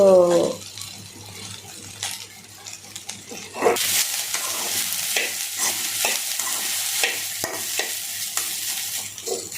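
Sliced okra fries lightly in a pan for a village-style curry, a steady close sizzle broken by scraping stirs. The sizzle surges louder partway through.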